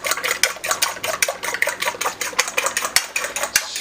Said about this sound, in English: So you want to give it a good stir for about a minute